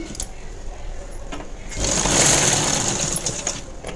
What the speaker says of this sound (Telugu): ఇప్పుడు రెండో సేప్ కూడా సేమ్ అంతే స్టిచ్ వేసుకోవాలండి